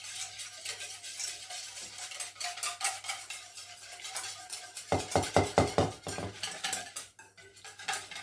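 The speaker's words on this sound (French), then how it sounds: "vous versez un peu de lait dans votre saladier pour mélanger votre ferment" A utensil stirs yogurt ferment into a little milk in a salad bowl, scraping and clinking steadily against the sides, with a quicker burst of rhythmic strokes midway.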